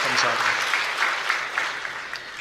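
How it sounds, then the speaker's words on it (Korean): A church congregation breaks into warm, sustained applause during a Sunday service. A voice speaks briefly at the start, then the clapping carries on alone with a few sharper claps standing out. "여러분, 진심으로 큰 박수로 이분들을 격려하도록 하겠습니다"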